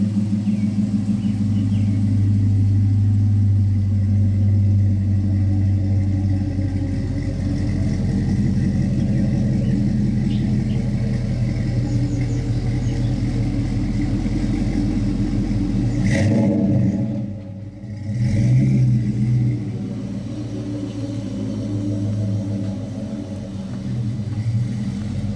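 A 1968 Buick Skylark convertible pro-touring street machine rumbles loudly and steadily up close, with deep engine drone and some revving, briefly dipping before the rumble returns, with no voices.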